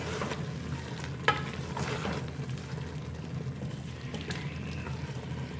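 Beef aloo keema with chopped coriander being mixed in a pan, a quiet low sizzle under intermittent stirring and one sharp utensil tap.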